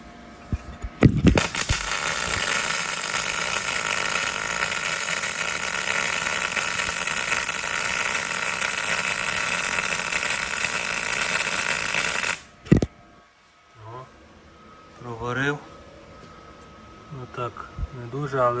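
A Magnum MIG 281 welder runs at 200 A on rusty, uncleaned 5 mm steel, a loud, steady crackling buzz lasting about eleven seconds before cutting off, followed by someone talking.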